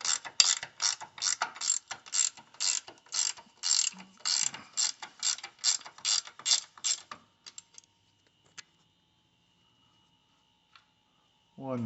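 A ratchet removes nuts from a 1982 air-cooled VW Vanagon Westfalia engine with a rapid series of close, crisp clicking strokes. The clicks stop after about seven seconds, followed by a few faint clinks and near silence.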